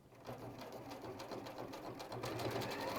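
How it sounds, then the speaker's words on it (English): A sewing machine stitches fabric in a quiet, steady whirring run of stitches, close by and faint, growing slightly louder toward the end. "And then sew to the opposite end."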